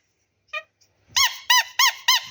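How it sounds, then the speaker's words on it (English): A squeaky toy at an auction walkabout squeaks: one short squeak, a faint pause, then four loud, evenly spaced squeezes in quick succession, close and alone. "Squeaky toys"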